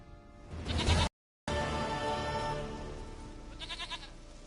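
A goat bleats in The Witcher video game, a nasal wavering cry up close, followed by a short silent gap and then a quieter second bleat near the end over faint background ambience.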